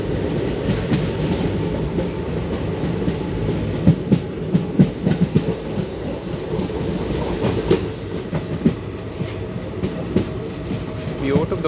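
Mangaluru–Vijayapura Express heard from inside a 3A coach as it approaches Arsigere: a steady, loud rumble of rolling stock with repeated clickety-clack wheel beats over rail joints throughout.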